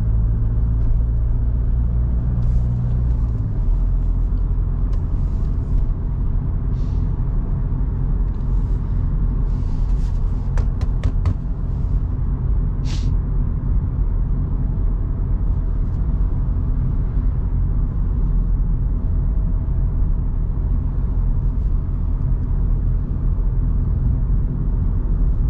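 Steady cabin noise inside a moving 2004 VW Polo 1.9 TDI PD100 diesel, a constant low rumble and road hum with no talking, broken by a few faint clicks and ticks.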